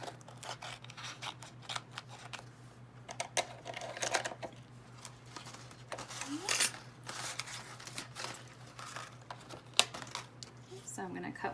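Scissors snip a glitter adhesive sheet to size in a run of close, crisp cuts with short pauses, while a voice talks faintly behind them.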